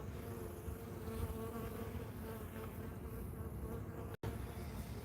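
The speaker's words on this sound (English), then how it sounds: "There is no need to run, the bees have already calmed back down." Honeybees buzz steadily around a backyard hive in Australia, a dense, continuous close-up hum with no talking and only a momentary dropout near the end.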